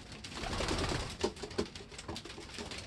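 Pigeons cooing softly nearby in a loft, low repeated coos over a rustling, noisy background, with no talking.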